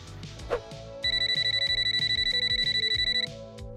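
Phone call ringing unanswered, a steady repeating ring tone pulsing in an even rhythm for about two seconds, clear and close, following a soft dialing beep and background music.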